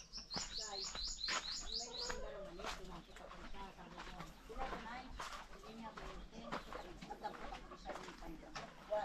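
Chicks at a rural home give a quick run of high, repeated chirps at the start, then fainter peeps scatter through while people talk close by.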